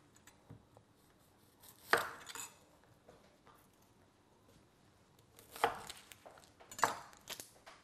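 A knife chops a yellow onion on a cutting board, giving sparse, faint thuds: a single cut, then a cluster of several more after a pause.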